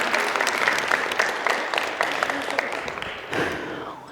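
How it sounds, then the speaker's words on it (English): An audience at a speaking forum applauds a guest speaker with steady, dense clapping that fills the room and swells slightly toward the end. "Give her a round of applause."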